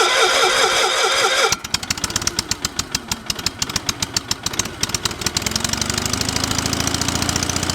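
A cold small engine, its fuel turned up and choke set, cranks with a raspy whir, then catches after about a second and a half. It settles into a loud, steady, rapid chugging idle with no voices.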